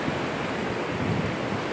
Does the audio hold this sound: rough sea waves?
yes